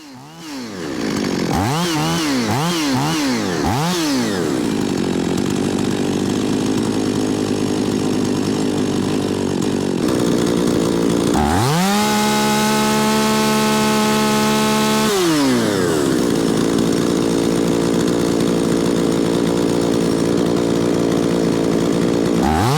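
A chainsaw engine runs loud and close during carburetor tuning, its pitch sweeping up and down repeatedly as the throttle is worked, then holding a steady high rev before dropping back to idle.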